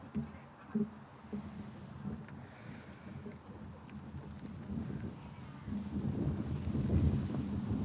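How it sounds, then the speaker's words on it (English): Wind buffets a microphone at an outdoor ceremony, rumbling low and gusting unevenly. It swells louder toward the end, and faint voices sit underneath. "it's really windy today."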